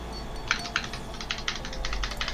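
Quick bursts of keys clattering on a computer keyboard, rapid clicks in short clusters, close but fairly quiet against a faint background hum.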